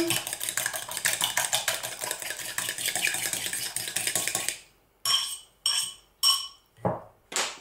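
A utensil rapidly mixes a ham, pepper and feta tart filling in a bowl, making a fast continuous clatter, then breaking into several separate scraping strokes with short pauses between them.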